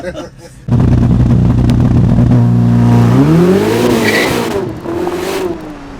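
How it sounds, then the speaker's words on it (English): A Ferrari SF90 hybrid supercar accelerates hard, its engine roaring loud and steady, then the pitch sweeps upward with a tire squeal before settling, heard close from inside the car. "It's got a crazy amount of pickup acceleration."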